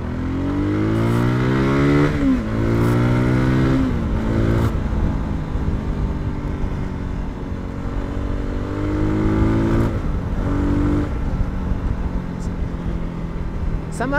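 A Voge 300 Rally motorcycle engine pulls hard through the gears, its pitch climbing in repeated rising sweeps with brief dips at each shift. It is loud and continuous as the bike rides along a road.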